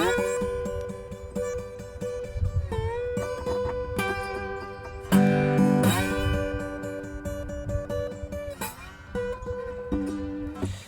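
Electric slide guitar plays a bluesy intro with sustained, gliding notes and bends, fairly loud and continuous, no voices.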